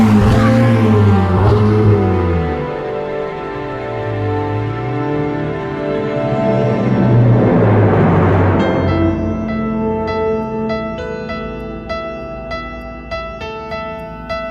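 Ferrari 488 Pista engine driving hard, loud revving that rises and falls through gear changes, then a sharp high-pitched rev climbing over the last seconds, close and continuous with no talking.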